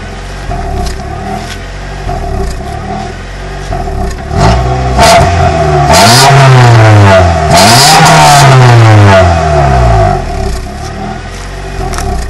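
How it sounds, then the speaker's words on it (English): A 1992 Honda Prelude with a swapped JDM H22A VTEC engine revs up loudly through its exhaust, with two sweeping climbs and falls in pitch over a steady idle, close by and alone. "There's the exhaust rev up a little."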